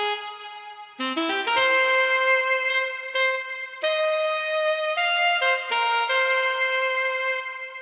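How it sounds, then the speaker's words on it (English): A sampled saxophone from an online sound bank plays a lively melodic line alone, with clear sustained and quickly changing notes, bright and close, no talking over it. "And then if we take a listen to the saxophone, this one is actually just a sound bank."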